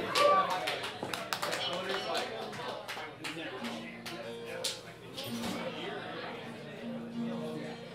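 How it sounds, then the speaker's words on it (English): An audience claps for a performer on stage, giving a burst of applause mixed with chatter and a few cheers. The clapping thins out into murmuring voices. "Let's give her a round of applause."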